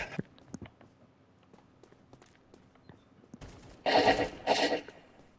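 Gunfire in a Roblox shooter game: scattered single shots early on, then two loud, dense automatic bursts near the end, with soft footstep-like taps between, no talking heard.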